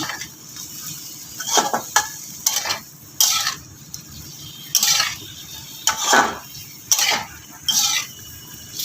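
A vegetable curry with beetroot, carrot, cauliflower, peas and spices being stirred in a pan, with repeated scraping strokes of a spoon coming in bursts over a faint underlying sizzle, close by.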